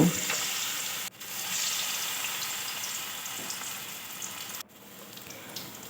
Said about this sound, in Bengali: এবার তেল গরম হয়ে গেছে একটা একটা আস্তে আস্তে করে আমি ছেড়ে দেব